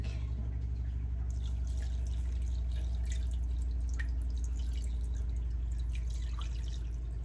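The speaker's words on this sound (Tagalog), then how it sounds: "Saka natin to lalagyan ng tubig." Water pours into a cooking pot for beef nilaga, a steady liquid trickle with drips over a constant low hum, fairly close and with no talking.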